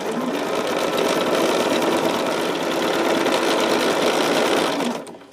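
A sewing machine runs steadily while stitching quilt blocks, a loud continuous mechanical whir with rapid needle rhythm that holds for about five seconds and then stops abruptly.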